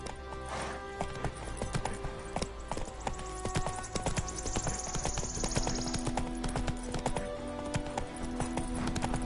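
Roach, Geralt's horse in the video game The Witcher, trots with steady, continuous clip-clop hoofbeats under a dense game soundscape, with a brief neigh.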